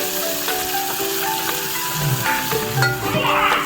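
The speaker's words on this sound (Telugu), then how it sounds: "ఇప్పుడు టమాటా వేసుకొని వేయించుకోవాలి" Chopped tomatoes added to a pan of frying onions and chillies, making a continuous close sizzle with occasional stirring scrapes and a louder hiss toward the end, over faint background music.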